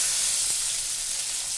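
Chopped onion fries in hot oil left over from frying fish, producing a steady, close hiss and sizzle with no talking.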